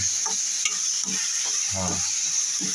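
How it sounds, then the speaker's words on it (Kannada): Crumbled kadak roti fries in a pan for oggarane roti, with a steady close sizzle broken by repeated scraping stirs of a spoon against the pan and no talking. "ಕೆಂಪಾಗ ಚೆನ್ನಾಗಿ ಫ್ರೈ ಮಾಡ್ಬೇಕ್ರಿ."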